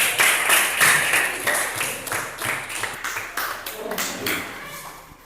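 Crowd applause for a group at an event, dense clapping that starts loud and slowly tapers off, filling the room for several seconds.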